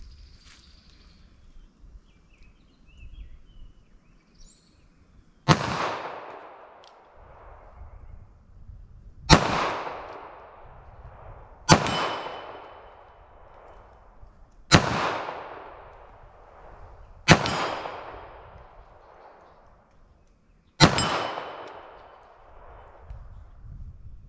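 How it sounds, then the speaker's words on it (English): Six loud .380 ACP full metal jacket gunshots fire at a 10-inch steel gong 25 yards away, evenly spaced a few seconds apart, each a sharp crack with a ringing decay and no speech. "let's see if I can hit that 10-inch gong at 25 yards"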